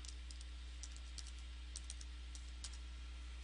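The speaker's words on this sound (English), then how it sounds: "we're going to type in" A password typed on a computer keyboard, a quick scatter of light key clicks at an uneven pace over a steady low electrical hum, faint and close.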